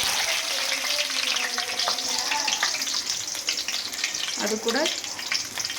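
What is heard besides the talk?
garlic and ginger frying in oil in a kadai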